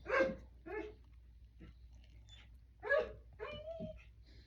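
A dog barks indoors, several sharp barks in uneven bursts, with a person talking in between.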